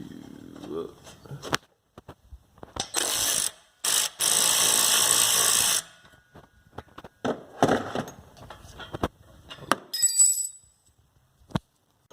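A ratchet working on an exhaust bolt and nut of a Subaru WRX, loud sustained clicking bursts close up between shorter clicks and clatter, with someone talking now and then.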